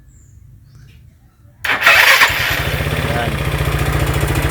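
A Yamaha Mio Sport scooter engine cranks and catches, then settles into a steady, close, buzzing idle after a short electric start, with a brief word spoken just before.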